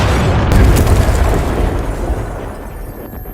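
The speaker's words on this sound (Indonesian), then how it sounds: "ledakan dahsyat itu mengguncang markas CIA" A powerful bomb explosion at a CIA base booms at the start, then a deep rumbling roar slowly fades away.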